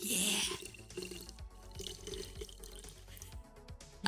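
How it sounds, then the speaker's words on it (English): Fizzy water poured into a glass, a burst of splashing followed by scattered pops, drips and bubbling crackles, close and fairly quiet. "that fizzy pouring water"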